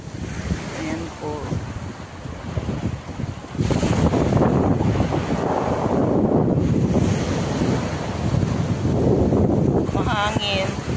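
Wind sweeps across a beach on Paros island in Greece, heavy gusts buffeting the microphone alongside rolling surf, loud and continuous, while people speak briefly at the start and end.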